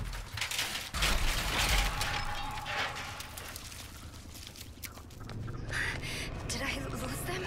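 A mechanical ratcheting and clanking in the Texas Chainsaw Massacre video game as a player works to open something, set against a steady, dense game ambience with a heavier thump near the start.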